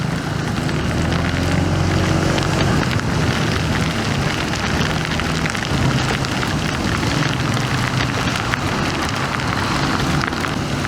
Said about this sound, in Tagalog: konting ulan lang yan.